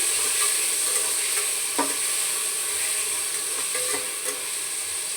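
Onion, grated ginger and chopped tomato sauté in a hot pan with a steady, loud sizzle and hiss throughout, broken by a few soft stirring scrapes.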